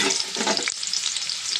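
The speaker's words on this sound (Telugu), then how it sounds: "ఇవి మనకి ఉల్లిపాయ అనేది కొంచెంసేపు ఫ్రై అవ్వాలి" Sliced onions frying in a few spoonfuls of oil for a chicken fry, a steady close crackling sizzle with faint stirring scrapes, continuous and without voices.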